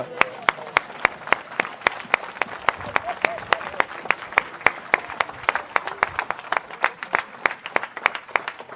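Congregation in a church service applauding the Lord with steady rhythmic clapping, a regular beat of sharp claps throughout, fairly loud and close, with a faint murmur of voices underneath.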